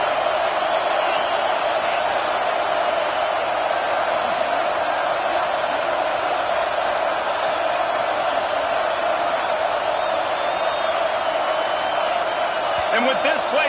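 A steady, loud roar from a packed stadium crowd at Neyland Stadium during a third-down play in an Ohio State versus Tennessee college football game, holding constant throughout with faint announcer speech beneath.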